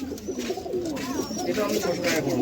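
Pigeons coo at a loft, with soft, low throaty calls repeating close by amid light rustling.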